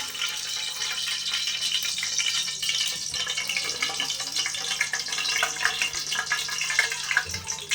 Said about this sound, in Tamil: எண்ணெய் பார்த்தீங்கன்னா ஒரு 100 ml விட்டுக்குங்க.